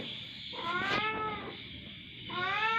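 A kitten cries out in several drawn-out, wavering meows, loud and close, with short quiet gaps between the calls.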